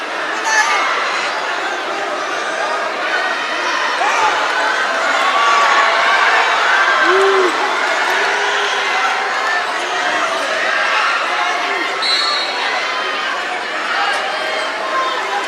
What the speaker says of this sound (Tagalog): He has to hear this crowd here